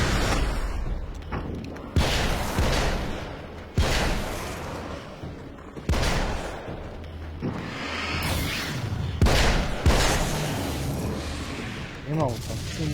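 Repeated booming explosions in the video game Alan Wake's American Nightmare, heavy thuds recurring every couple of seconds with rumbling debris in between, while a voice talks over the action.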